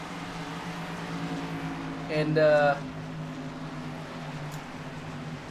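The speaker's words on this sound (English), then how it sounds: "listen to all the cars go flying by" Race cars in a Sidewinder Racing League Security Pro Series race at Charlotte roar steadily past, with one car sweeping by loudly near the middle before the engine drone settles again; a voice briefly speaks.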